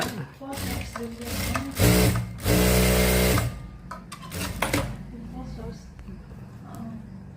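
A power sewing machine stitching, starting with short stop-start whirs, then two louder sustained runs of rapid mechanical hum, and finally fading to light clicks, with someone talking over and between the runs.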